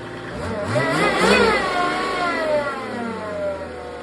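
A Mercedes OM606 diesel engine drives a PN40 irrigation pump, revving up from a steady run, loud and close, then holding a high, even drone.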